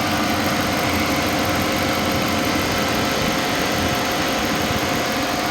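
A 2014 Dodge Charger police-package sedan with a 5.7-liter engine and 80,000 miles runs steadily, its loud, dense engine roar holding near-constant without clear revving peaks; a slight rattle tied to acceleration is not distinctly separable.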